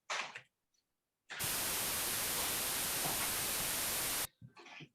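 Generated white noise at low amplitude plays as a flat, steady hiss lasting about three seconds, starting and stopping abruptly between bits of talk.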